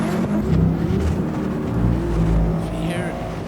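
Nissan Z and other drift cars accelerate hard at a drift competition, a loud continuous engine roar with rising and falling revs heard from a distance under commentary.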